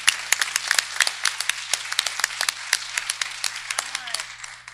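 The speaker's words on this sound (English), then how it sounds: "give one big round of applause for all of our award winners" An audience at a school board meeting applauds its award winners with steady, moderately loud clapping. Individual claps stand out against the crowd noise, and the applause thins slightly toward the end.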